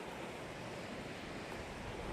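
Wind blows steadily along the seashore at Gokarna, a constant rushing roar mixed with surf noise, faint and unbroken, with no one speaking.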